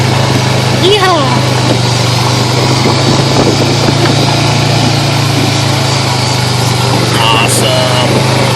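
An ATV engine drones steadily and loudly while riding dirt trails at Red River ATV Park, a constant close buzzing hum with a voice speaking over it.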